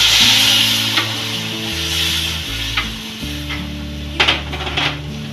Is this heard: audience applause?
no